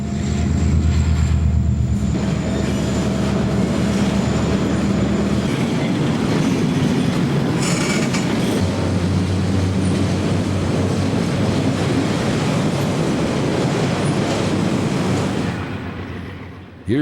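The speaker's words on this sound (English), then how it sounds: "Southbound train R313 slows down at North Campbellsburg to take the siding for a meet with the northbound freight" A southbound CSX freight train in 1995 slows at North Campbellsburg to enter a siding. Locomotive engines drone loudly and nearby, with wheels rolling and clacking over the rails as the sound stays steady and then fades slightly at the end.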